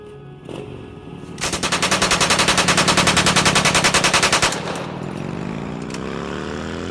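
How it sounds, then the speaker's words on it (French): A submachine gun fires a long rapid burst of about three seconds, loud and evenly spaced, followed by a lingering engine-like rumble with a few faint shots before it. "un est armé d'un pistolet mitrailleur. Le tueur dégaine alors son arme, et ouvre le feu sur Adrien"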